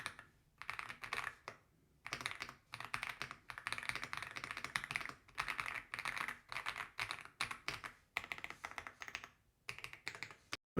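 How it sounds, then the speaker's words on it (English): Typing on an Aula F99 mechanical keyboard fitted with Reaper switches: steady bursts of close, crisp keystroke clatter with brief pauses between runs, no voices. "So this is the sound test of before we change everything. These are just the Reaper switches."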